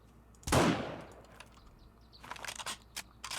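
A single sharp gunshot cracks loudly in the video game 7 Days to Die and trails off in a decaying echo, followed by a few softer clicks and thuds.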